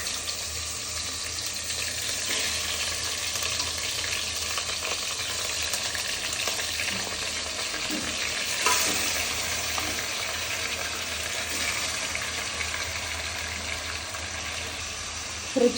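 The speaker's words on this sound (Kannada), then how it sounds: "ಇವಾಗ ಆಲ್ರೆಡಿ ನಾನು ತೊಳೆದಿಟ್ಕೊಂಡಿರೋ ಚಿಕನ್ನ ಹಾಕ್ತಾ ಇದ್ದೀನಿ." Washed chicken pieces frying in hot oil in a pan for chicken sambar, giving a continuous close, even sizzle and hiss with no one talking.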